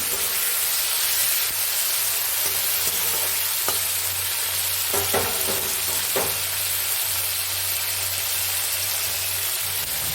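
Chopped tomato and green chili frying in oil for a mixed dal, a loud continuous hiss and sizzle up close, with a few light spoon scrapes midway.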